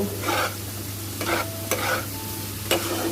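Turmeric and cumin powder being stirred in a frying pan for vegetarian dal, with a steady sizzle of frying and repeated scraping strokes of the spoon at a close, moderate level.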